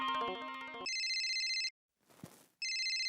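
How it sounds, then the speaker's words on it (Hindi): A telephone ringing late at night, a melodic electronic ringtone jingle giving way to shrill repeated electronic rings, with a brief gap of rustling between bursts, fairly close and clear. "इतनी रात को किसका फोन?"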